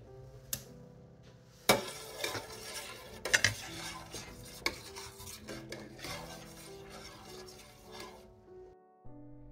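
A spoon stirs milk in a bowl to set curd at home, giving close, sharp clinks and scrapes against the bowl with a few louder knocks, heard alone without talk.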